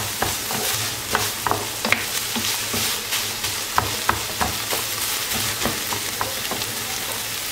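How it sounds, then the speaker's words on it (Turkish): Ground beef frying in a pan while the back of a spoon presses and breaks it apart, a loud continuous sizzle with quick rhythmic scraping and tapping strokes throughout. "Böyle kaşığın arkasıyla ezerek dağıtıyorum."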